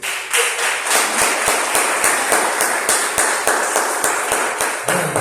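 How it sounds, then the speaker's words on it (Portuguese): A church congregation claps together in steady, rhythmic applause, loud and sustained throughout with no speech over it. "Aplaude o Senhor com alegria."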